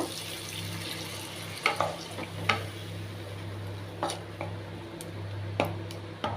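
Aubergine and tomato frying in a pan for a fish curry, with water being poured in: a steady low cooking hiss broken by several sharp spatula clinks and spatters, close and moderate, no talking.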